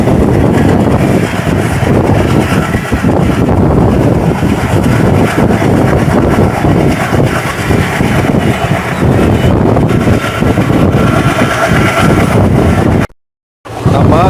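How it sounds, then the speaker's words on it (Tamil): Onboard the 16212 Salem–Yesvantpur Express travelling from Hosur toward Yesvantpur, the train's running roar stays loud and constant, with wind rushing over it. The sound cuts out briefly near the end, and no one speaks. "நம்ம கோல் இன்ஜின் சவுண்டு மாதிரியே இருக்குங்க."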